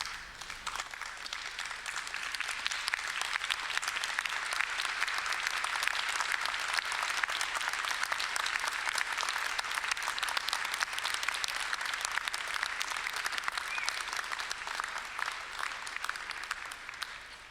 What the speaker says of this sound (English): express your gratitude by a round of applause